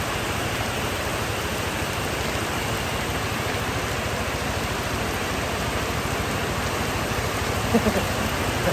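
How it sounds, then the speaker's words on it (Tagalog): Rain pours down outdoors as a loud, dense, continuous hiss of falling water, steady throughout with only a few faint knocks near the end. "nabutan pa ako ng ulan"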